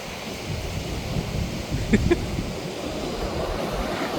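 Sea waves wash onto Mangalore beach at sunset in a steady, broad roar mixed with wind, with a couple of brief faint clicks near the middle.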